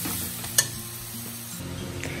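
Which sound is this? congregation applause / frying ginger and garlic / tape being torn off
frying ginger and garlic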